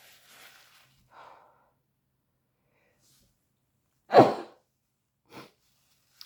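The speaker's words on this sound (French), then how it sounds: "Je vais encore éternuer." A single sharp sneeze bursts out after a few soft breaths, followed by a faint sniff; close and fairly loud against near silence.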